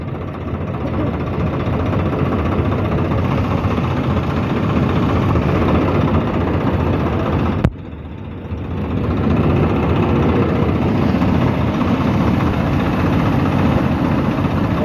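A Swaraj tractor engine running loud and close with a steady heavy diesel drone, briefly dropping off in the middle before picking back up to a sustained roar.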